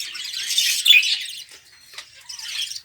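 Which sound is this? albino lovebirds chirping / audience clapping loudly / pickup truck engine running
albino lovebirds chirping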